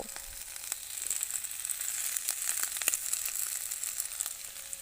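Chili powder and ginger sizzle steadily in hot oil for a rohu fish curry with potatoes, a close, bright frying hiss with scattered small crackles and pops.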